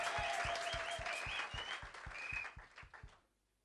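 Church congregation applauding at a Sunday service in Brussels, a steady rhythmic clapping that holds at full strength for about three seconds and then thins out and fades away, with no voices over it.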